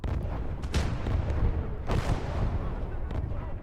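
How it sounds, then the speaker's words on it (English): Artillery fire in the World War II strategy game Gates of Hell: Ostfront, with several heavy booming blasts rolling over a continuous rumbling battlefield din. "so he's actually artillerying me again"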